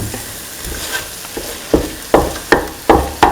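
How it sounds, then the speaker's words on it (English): Eggs are scrambled in a hot pan, with soft sizzling and a run of regular, loud scraping strokes of a utensil against the pan that grow stronger toward the end. "Thoroughly scramble the eggs"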